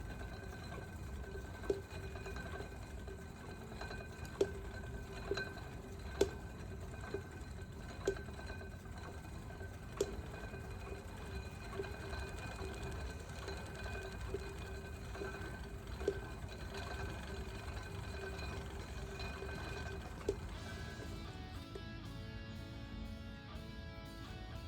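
An aluminum spinning wheel spins yarn with a steady, faint mechanical whir and soft regular ticking from the turning wheel. It runs continuously and fairly quietly, with no talking.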